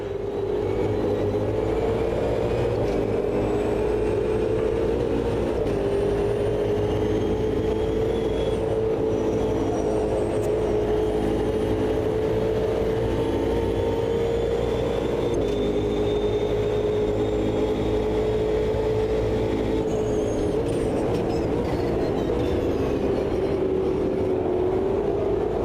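Rival race cars' engines in the Automobilista 2 racing game at Road America, a continuous loud harmonic drone that rises and falls slightly without a break.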